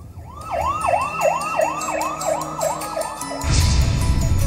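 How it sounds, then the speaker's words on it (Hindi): A police siren wails in a fast repeating yelp, loud and close, with traffic rumble rising toward the end. "सायरन बजाती पुलिस की गाड़ी"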